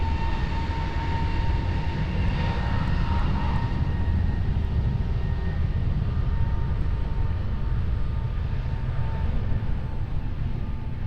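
A jet airliner at Lisbon Airport roars steadily as a broad, continuous rumble with a faint whine, holding level throughout with no voices.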